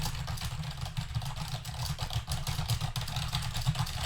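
Rapid, continuous clatter of keystrokes on a fairly loud membrane keyboard, picked up by an Audio-Technica AT2020USB+ microphone, over a constant low hum, with no pauses.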